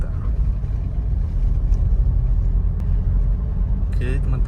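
A Toyota Grand Innova 2.0 with manual gearbox heard from inside, its low road rumble and engine drone steady as it eases off speed, with a brief clatter near the end.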